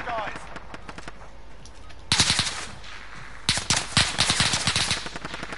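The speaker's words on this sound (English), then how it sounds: "Whoever's trying to shoot at me is just missing so badly" Rapid automatic gunfire in a video game, in several bursts of loud, sharp shots, with a faint voice talking in the background during the opening seconds.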